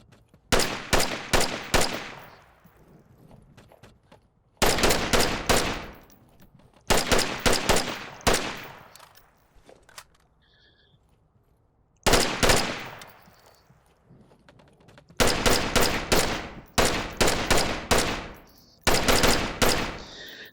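Assault rifle fire in a video game shooting range comes in loud, sharp bursts of rapid shots, several separate volleys broken by short pauses, close and clear with no talk over it.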